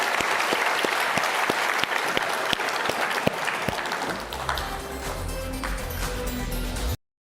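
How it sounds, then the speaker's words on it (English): An audience applauds a panel at a Roblox event, with sustained dense clapping and a few sharper individual claps that thin out toward the end before stopping abruptly. "Please give them a round of applause."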